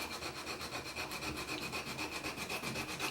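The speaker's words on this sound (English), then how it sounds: "I'll keep sanding until that squeak's gone" Sandpaper rubbing a bagpipe-style reed to cure a squeak, quick steady back-and-forth scrubbing strokes in a rapid even rhythm, close and fairly quiet, with no voices.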